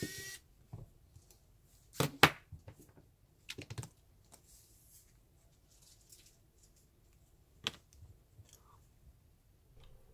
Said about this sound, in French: Plus que quelques vis à dévisser pour voir l'ampleur des dégâts.